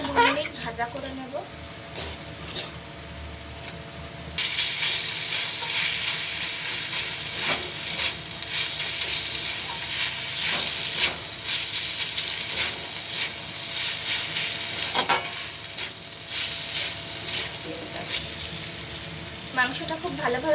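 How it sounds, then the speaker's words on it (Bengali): Marinated chicken for momo filling fries in a pan with a dense, constant sizzle that jumps louder after a few seconds and carries on steadily, with occasional stirring clatter. "মাংসটা 2 মিনিট ভাজা করে নেব।"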